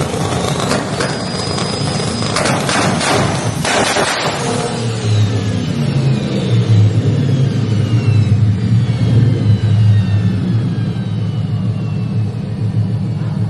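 A friend's turbocharged car revs hard with rapid loud bursts, then the engine winds down into a deep, rumbling idle that keeps burbling close and loud.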